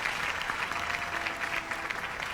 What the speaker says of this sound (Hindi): Huge round of applause for everybody ladies and gentleman. भरपूर तालियां